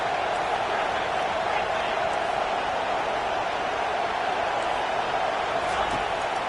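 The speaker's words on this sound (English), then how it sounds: "Decibels rising as the crowd gets behind this defense on third down." A football stadium crowd at an Oregon vs Purdue game roars steadily on a third-down defensive stand, a dense, constant wall of distant cheering that stays even in level throughout.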